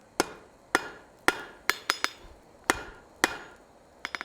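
Hot steel struck on an anvil while drawing out a leg for a decorative hacksaw: a series of sharp, ringing hammer blows at an uneven pace, loud and close, with a quick cluster of lighter taps at the end.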